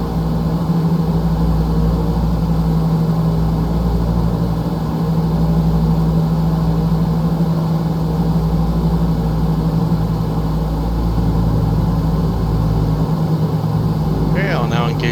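Piston engines of a PMDG DC-6 airliner in Microsoft Flight Simulator drone steadily at climb power, a loud, constant low hum throughout, with a voice talking over it.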